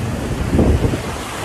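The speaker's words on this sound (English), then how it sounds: "The waves are going." Ocean waves wash over a California beach, with a steady surf roar that swells briefly in the middle, mixed with heavy wind buffeting the microphone.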